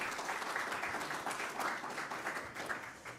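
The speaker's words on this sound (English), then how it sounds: "let's give him a round of applause for that" Audience applause at a Hall of Fame media conference, a steady wash of many hands clapping, fairly close and even throughout, with no talk over it.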